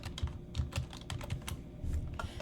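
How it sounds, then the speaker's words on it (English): Search keywords being typed on a computer keyboard, a quick close run of key clicks with uneven rhythm and no talking. "I'm also going to type transport."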